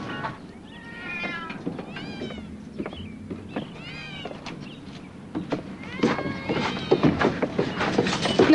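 Several cats meow repeatedly inside an old lady's house, overlapping rising and falling cries that grow busier and louder toward the end, close by with no speech over them.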